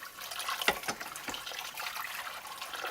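Water pours and splashes down a kitchen sink drain in a steady, close-up rush with small gurgles, rinsing out leftover smoke-bomb mixture.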